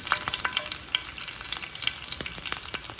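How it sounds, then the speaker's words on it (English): Green chilies sizzle and crackle in hot oil with cumin seeds, a bright continuous frying hiss dotted with sharp pops, close and fairly quiet. "I'm going to add my green chilies"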